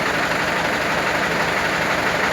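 A diesel engine idles steadily during its break-in run, a constant loud rumble with a fine knocking texture and no change in pace throughout.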